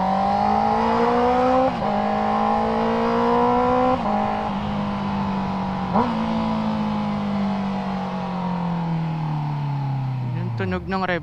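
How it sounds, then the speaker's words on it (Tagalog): A Honda CB650R motorcycle with an Akrapovic exhaust and E-Clutch blips its four-cylinder engine through repeated rev-matched downshifts, loud and close, with sharp throttle jabs every couple of seconds before the revs sag and fade out. "tunog ng rev match na itong motor na to."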